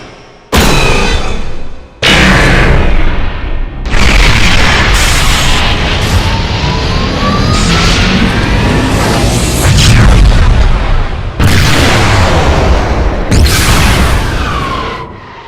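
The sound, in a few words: BattleMech weapon sound effects from MechWarrior video games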